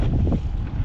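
Gusty wind blows by a river at Kuala Kurau, Perak, during a fishing trip, a southerly breeze buffeting the microphone with a loud, continuous low rumble and no voices.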